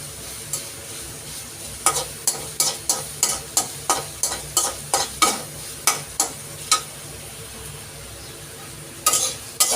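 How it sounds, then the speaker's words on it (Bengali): Coriander leaves and chopped onion fry together in a pan for a bhorta, a quiet sizzle beneath a run of regular, evenly spaced scraping strokes of a spatula, pausing and then resuming near the end. "তো ধনিয়া পাতা আর পেঁয়াজ কুচিটা একসাথে ভেজে নিচ্ছি।"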